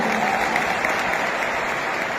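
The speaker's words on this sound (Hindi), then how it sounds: "तो एक बार जोरदार तालियां" An audience at a corporate ceremony for a direct-selling company claps steadily and fairly loudly in a dense, continuous burst of applause lasting a couple of seconds.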